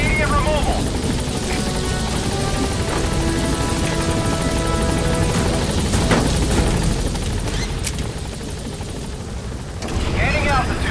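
A military helicopter in the video game Metal Gear Solid V: The Phantom Pain roars loud and steady as it climbs out of a hot landing zone, with scattered gunfire and radio voices talking over it.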